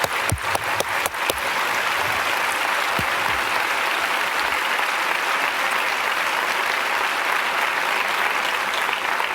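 An audience at a scientific society's opening session claps loudly and steadily throughout, a dense wash of applause opened by a few sharp separate claps, with no voices standing out.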